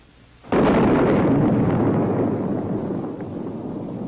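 A Bullpup air-to-surface missile strikes its target in one sudden, loud explosion that booms out and then trails off into a long, rumbling decay.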